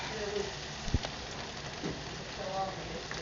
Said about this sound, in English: It's raining, obviously.